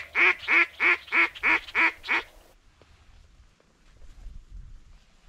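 Diver ducks quack seven times in a quick, evenly spaced run, loud and fairly near, during a kayak duck hunt. After the calls a quieter stretch follows with faint low rumbling.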